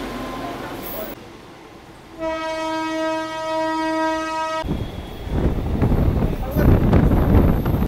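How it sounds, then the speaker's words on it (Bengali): A local Digha special train pulls out of Sankrail railway station near Kolkata. A long, loud horn blast sounds first, then rumbling wheels and car noise build steadily as the train gathers pace. "আমার ট্রেন ছেড়ে বেরিয়ে যাচ্ছে সাকরাইল রেলওয়ে স্টেশন।"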